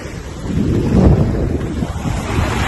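Steady roar of sea waves washing in at Rabigh Corniche Beach, Saudi Arabia, mixed with wind buffeting the microphone, loud and continuous.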